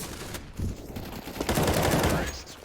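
Gunfire in CS:GO breaks out in short bursts of rapid shots, close and loud, with a denser volley in the second half.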